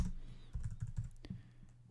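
Keys on a computer keyboard clatter in a quick, irregular burst of soft clicks, close by and fairly quiet, with no voices.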